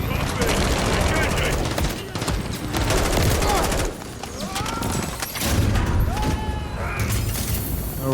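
Sustained automatic gunfire from a Modern Warfare III firefight aimed at an enemy helicopter, loud and continuous with dense bursts, overlaid with shouted voices and radio chatter.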